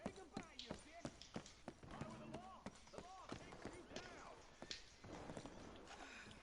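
Horses in Red Dead Redemption 2 Online clop over the streets of Saint Denis with quick, uneven hoofbeats close by, mixed with overlapping talk and occasional whinnies.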